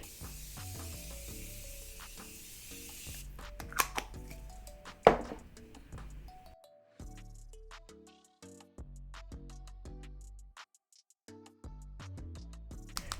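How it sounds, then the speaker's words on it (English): Morphe Continuous Setting Mist sprayed onto a face during a drugstore makeup routine, a few quiet close hissing spritzes with soft handling clicks between them. "I like to melt everything together with my Morphe Continuous Setting Mist."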